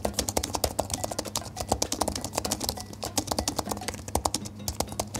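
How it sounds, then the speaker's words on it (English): Rapid, steady typing on a Logitech Combo Touch keyboard for iPad Pro, a close stream of crisp key clicks with a quick, even rhythm and no voices. "the keyboard typing experience on the Combo Touch is excellent"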